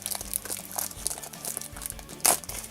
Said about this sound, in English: I always have trouble with the plastic packaging.